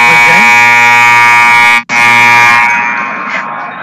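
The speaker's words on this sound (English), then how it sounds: "Trying to decide which is louder, the cheering section to our right or the buzzer." A loud, sustained electronic buzzer in a high school basketball gym blares, cuts out for an instant, then sounds again and trails off, close and harsh.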